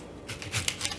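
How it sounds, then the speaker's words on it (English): Cranberries pop and crackle softly as they cook in honey in a pan coming up to a boil, with a few small bursts in quick succession. "you can already hear the cranberries popping"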